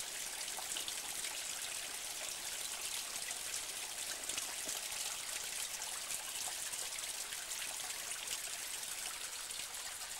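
A small waterfall in the Branisko mountains gives a steady, even hiss of rushing water, faint and unbroken with no voices.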